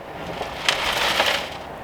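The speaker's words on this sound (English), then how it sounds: "That's broken glass." Broken glass from a crashed Ferrari 812 Superfast crunches and grinds during teardown, a dense gritty scraping close by with a couple of sharper crackles and no talk.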